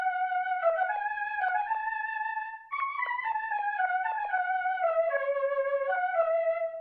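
A lead melody is played on Forte keys, a clean tonal line of short, stepping notes in a mid register with a brief pause partway through, steady and fairly soft.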